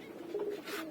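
Pet doves coo in a short, soft, steady call close by, a low hum-like tone with no voices present.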